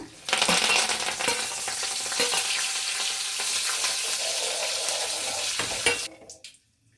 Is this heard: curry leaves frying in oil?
yes